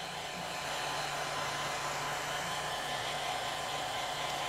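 A hair dryer drying fresh paint runs at a constant, close, loud roar for the whole stretch, with no other sounds over it.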